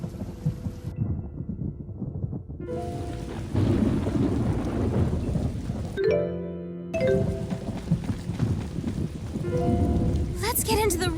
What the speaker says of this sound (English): I hope there won't be any more thunder.